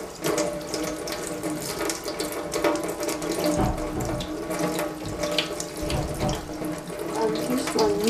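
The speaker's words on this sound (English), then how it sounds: "Let me wash my hand." Water runs steadily from a tap while hands are washed at a sink, a continuous close splashing stream that lasts throughout with no talking.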